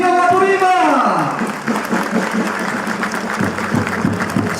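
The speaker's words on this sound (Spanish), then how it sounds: "Aplausos por nuestra región Apurímac." Applause from an audience at a public accountability hearing of the Apurímac regional government, a steady wash of clapping lasting throughout, with a voice talking over it.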